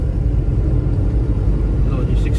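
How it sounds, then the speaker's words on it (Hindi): A heavy car cruising in fifth gear at around 60–70 km/h during an overtake gives a steady, loud low engine and road rumble that stays constant throughout. "तो भाई हमने डाल दिया फिफ्थ गियर में गाड़ी"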